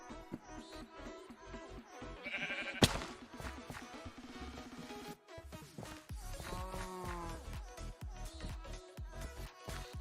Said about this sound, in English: Got a sheep and a cow up here.